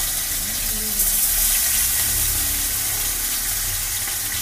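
Fish frying in a pan gives off a steady, dense sizzle that holds evenly from start to finish, with no speech over it.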